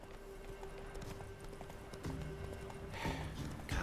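Geralt's horse Roach gallops in Witcher 3, steady rapid hoofbeats clip-clopping at close range over a low game ambience, with a brief snort or whinny toward the end and no talk.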